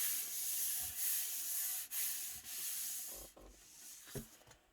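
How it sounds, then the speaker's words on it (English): Rubbing by hand to press together rubber stamp storage pieces gives a steady dry scraping hiss that runs through most of the stretch. Brief pauses break it, and a few soft knocks come near the end. "Let's give this a good rub."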